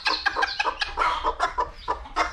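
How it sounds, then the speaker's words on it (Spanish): Hens in a small backyard coop clucking close by in quick, irregular bursts, several birds overlapping in a busy, chattering run of short calls. "Las gallinas pueden salir cuando quieran, pero los pollitos se quedan."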